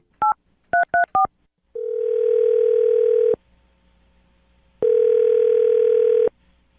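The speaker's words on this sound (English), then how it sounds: "I'm going to dial his phone number right now" A telephone keypad dials a number: four quick touch-tone beeps, then two long, loud ringback tones separated by a pause, clean and close with no talking.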